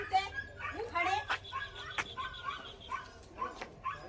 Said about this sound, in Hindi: कुत्ता का कौन मारा है पिल्लिया के?